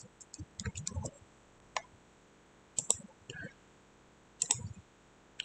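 Computer mouse clicks arrive in small clusters of sharp, quiet taps spread across a few seconds, close and dry in a quiet room.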